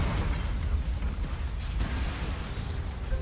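A car blows up in Resident Evil 2, leaving a dense, rumbling roar of fire and debris that stays loud and heavy in the low end throughout, with no voices over it.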